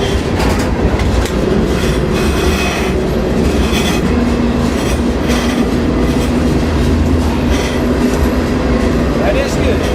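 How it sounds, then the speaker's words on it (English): Freight train rolling on rails from aboard during a trainhop between Atlanta and Alabama: a loud, continuous rumble with rhythmic clickety-clack and occasional faint wheel squeal, close and steady throughout. "I'm pretty sure this is the right train."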